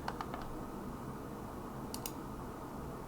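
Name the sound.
typing on computer keyboard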